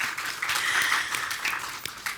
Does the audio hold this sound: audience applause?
yes